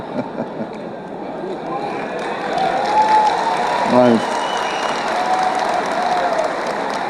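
Dense audience applause fills a debate hall, steady and loud throughout, with a brief spoken word and murmured voices rising through the clapping.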